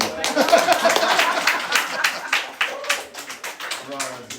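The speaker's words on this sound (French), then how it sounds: "Là, on peut applaudir." A congregation at a place of worship claps steadily in dense, lively applause for a few seconds, with scattered voices mixed in.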